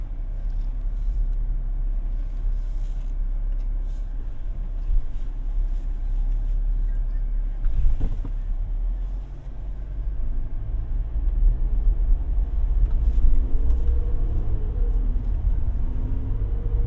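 A 2019 Jeep Wrangler Sport 4x4 pulls away and drives on, heard from inside the cabin as a steady low engine and road rumble, with a brief thump midway and a slight rise in drone later.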